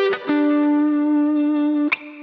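Distorted electric guitar plays a lead phrase from a guitar solo, using quick pull-offs: a brief plucked note, then one long sustained bend-like tone that slides up to a higher note near the end, played alone.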